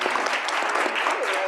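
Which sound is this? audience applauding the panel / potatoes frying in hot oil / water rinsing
audience applauding the panel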